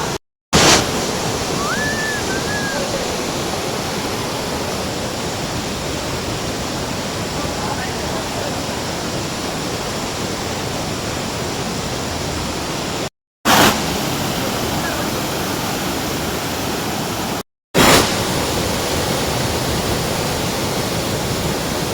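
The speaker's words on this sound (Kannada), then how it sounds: "ಎರ್ಮಾಯಿ ಫಾಲ್ಸ್" Ermayi waterfall in Karnataka roars with a steady, loud broadband rush of falling water, continuous and close, broken only by a few brief cuts.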